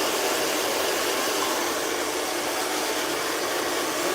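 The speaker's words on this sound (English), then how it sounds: "So we're gonna dry out some of her water out of her hair while letting them blow dry." A hair dryer blows steadily on wet, chemically relaxed hair during a salon blow-dry, a loud, constant close-up whoosh that holds without pause throughout.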